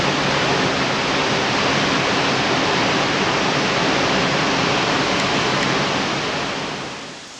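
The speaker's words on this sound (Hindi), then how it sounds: "गौरी गंगा यहाँ डीप गॉर्जेस से गुजरती है। शोर सुनकर आप इसकी स्पीड का अंदाज़ा लगा सकते हैं।" Loud, steady roar of the Gori Ganga river rushing fast through a deep Himalayan gorge, a constant broadband wash that fades slightly at the very end.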